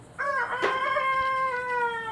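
A single rooster crows once, close and clear, a long drawn-out call that fades at the end.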